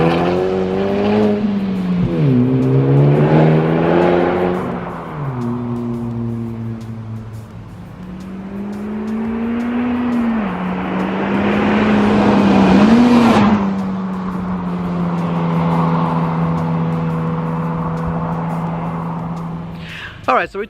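A modified Honda Civic Type R driving along, its exhaust droning and rising and falling as the engine revs up and eases off through gear changes, loud and close from inside the car.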